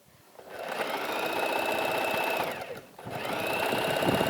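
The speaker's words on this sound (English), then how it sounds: "here I'm sewing the edge here to give a comfortable feel on the shoulder" A sewing machine stitches the edge of a garment near the shoulder, a loud continuous mechanical whir that runs steadily, pauses briefly, then resumes.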